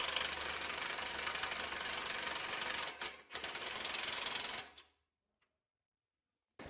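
A ratchet or wrench runs steadily, tightening a bolt and nut on a saw workstation with a dense, continuous mechanical clicking that pauses briefly, resumes, then stops, leaving near silence.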